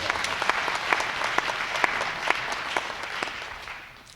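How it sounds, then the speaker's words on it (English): An audience gives a round of applause at a community speaking event, dense steady clapping with a few sharp nearby claps standing out, fading toward the end. "Can we give them a round of applause?"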